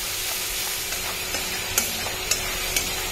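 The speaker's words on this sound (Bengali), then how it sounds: "এখানে পেঁয়াজটা দিয়ে দিলাম, পেঁয়াজ একটু বাটা এটাই দিয়ে দিলাম" Onion paste sizzles in a hot pan with cumin, giving a continuous, close frying hiss with a few soft clicks and stirring taps scattered through it.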